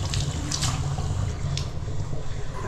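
Water runs steadily from a tap in an apartment, a continuous close hissing splash with a low rumbling base and no talking over it.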